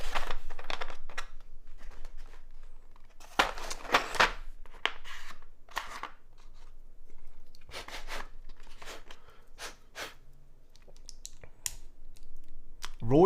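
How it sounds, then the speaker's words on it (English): Keycaps pressed onto a mechanical keyboard, bursts of sharp clicking and clacking snaps in irregular clusters, close up, with pauses in between. "Alright, let's install the keycaps."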